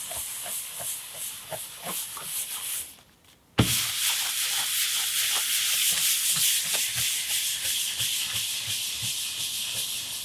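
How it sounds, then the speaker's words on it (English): Paper towel rubbed in circular motions over wood to work in Minwax Simply White stain, a continuous close hissing scrub with rhythmic strokes and one brief pause. "I'm going to take a cleaner paper towel, and again, I'm going to do these circular motions"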